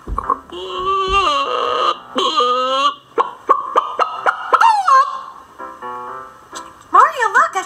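A voice imitates a loud chicken, squawking and clucking in quick, pitched bursts with wavering cries, close and loud, with short gaps between the calls.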